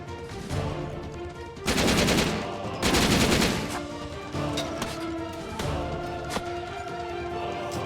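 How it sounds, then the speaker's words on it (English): Gunfire from Syphon Filter: Omega Strain: two loud, dense bursts of rapid automatic fire a moment apart, with scattered single shots and game sounds in between. "Why are you shooting me?"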